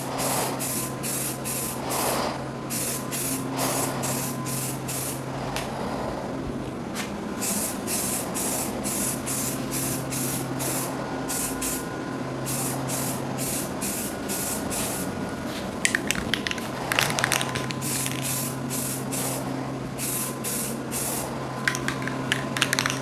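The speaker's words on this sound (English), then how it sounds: "You don't want to be right up on it when you're spraying, because that'll cause runs too." Spray paint hissing from an aerosol can onto a motorcycle part in a series of steady, closely repeated bursts, loud and near, with a faint background hum.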